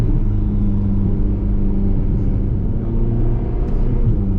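A Ferrari California is driving, heard from inside or close by as a steady low engine rumble with a deep, continuous road drone and no voices.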